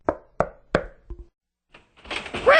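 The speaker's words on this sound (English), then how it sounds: "He knocked on her door." Three firm knocks on a wooden door, evenly spaced and close, followed by a short thud and then a rustling, clattering movement that builds toward the end.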